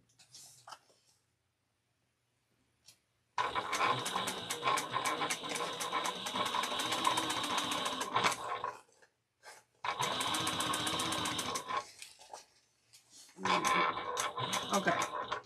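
A sewing machine stitches back over a row on a fabric bag in three close, steady runs of rapid mechanical chatter separated by short pauses.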